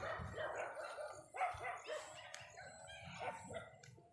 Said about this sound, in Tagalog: Marami talagang aso.